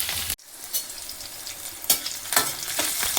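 Garlic, green chilli and curry leaves frying in a pan for a dry bitter gourd dish, giving a steady close sizzle broken by a few louder scraping stirs.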